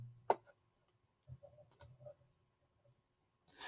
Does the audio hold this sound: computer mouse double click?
yes